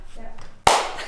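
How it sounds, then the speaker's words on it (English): A single hand clap rings out sharply and close, a sudden crisp burst that decays quickly after a moment of quiet murmur. "This would be a clap."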